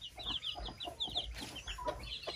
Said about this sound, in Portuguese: A bagaceira tá grande aqui pra essas galinhas chocando.